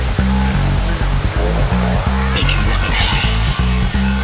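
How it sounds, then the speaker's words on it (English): A waterfall roars as a loud, steady broadband rush of falling water, close and continuous, with low rhythmic knocks underneath and no voices over it. "time for a bit of Bear Grylls waterfall climbing"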